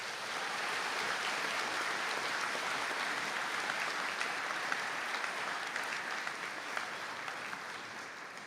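An audience at a college conferring ceremony in Donegal applauds the graduates: a broad, even roar of many people clapping, slightly distant and reverberant, holding steady throughout without speech.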